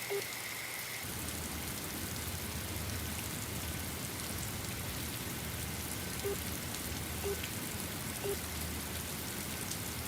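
Steady rain pours down, a dense hiss of drops on surfaces with a few sharper drips standing out now and then.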